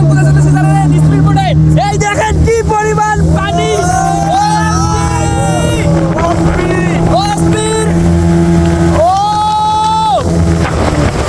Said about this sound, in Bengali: আমাদের স্পিড বোর্ডের চালক সে স্পিড বোর্ডটা চালু করে দিল